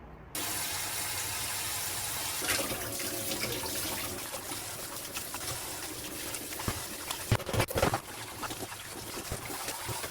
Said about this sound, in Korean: 이제 한번 싹 설거지를 해줘 볼게요